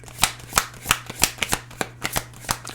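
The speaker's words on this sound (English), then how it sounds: "Let's grab one more card here." Tarot cards being shuffled and drawn, a quick run of about a dozen crisp riffling snaps at a fairly even rhythm, close and clear with no talking.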